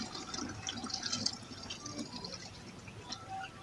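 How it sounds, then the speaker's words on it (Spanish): Water poured through a small funnel into an empty bottle, a steady close trickle and splash lasting several seconds, fairly quiet with no voices. "necesitamos una botella vacía y un embudito para echar el agua"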